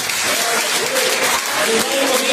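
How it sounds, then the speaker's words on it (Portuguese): A church congregation at an evening worship service applauds, with brisk continuous clapping mixed with voices for a couple of seconds. "Vamos aplaudir a Jesus pela vida deles."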